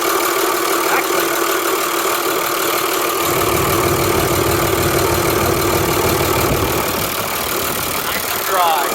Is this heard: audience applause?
no